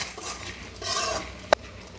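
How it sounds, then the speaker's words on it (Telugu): Potato pieces are tossed with chili powder, coconut and garlic in a pan for potato fry, giving a soft sizzling stir with a couple of sharp metal utensil clinks near the end. "ఈ కారం అంతా బంగాళదుంప ముక్కలకి పట్టేలాగా బాగా కలుపుకోవాలి"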